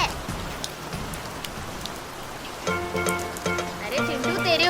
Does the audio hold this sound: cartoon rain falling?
yes